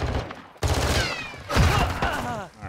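Rapid bursts of gunfire in a Call of Duty Search and Destroy match, clattering shots in quick volleys with a brief pause early on, loud and close.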